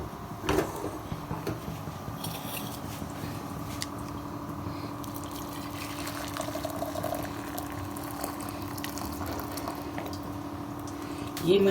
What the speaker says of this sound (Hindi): देखिए अब मैं चाय छान लेती हूँ।